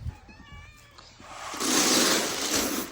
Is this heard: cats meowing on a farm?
yes